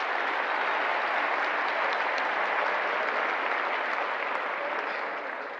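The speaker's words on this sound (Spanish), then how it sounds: "vamos a darle ese aplauso" Audience applause at a political gathering, a dense steady burst of clapping from a large crowd that fades slightly at the close.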